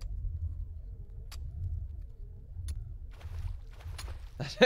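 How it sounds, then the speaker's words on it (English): Furnaces in the Timber and Stone building game give off a low, steady rumbling hum that warps as the view shifts. Faint clicks and brief bursts overlay it, ending in a sharp louder hit. "It sounds weird anyway, it sounds like a spacecraft engine, but when you move it around a little bit, it just warps."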